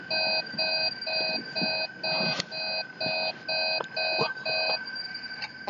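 Ventilation alarm in Five Nights at Freddy's, a loud electronic alarm of evenly spaced beeps repeating about twice a second over a steady tone, with faint thumps in the background.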